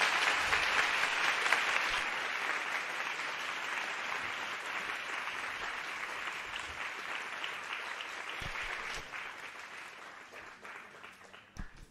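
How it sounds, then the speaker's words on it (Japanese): A lecture audience at Keio University's SFC campus gives Takafumi Horie warm, sustained applause that holds steady for several seconds, then gradually tapers off. "堀江貴文さんに 盛大な拍手でどうもありがとうございました"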